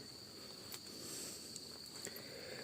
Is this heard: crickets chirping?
yes